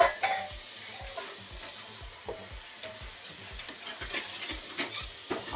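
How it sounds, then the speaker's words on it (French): A Belgian chicken waterzooi sauce being stirred in a pan as broth is added little by little, with steady sizzling, frying and a regular rhythm of scraping stir strokes, close and fairly quiet, with no talk. "Je vais remuer peu à peu avec mon bouillon."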